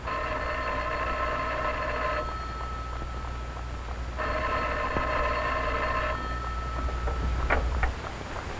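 A 1942 civil defense report center telephone rings in two long, steady bell bursts separated by a pause, over a low constant hum, with a few faint clicks near the end.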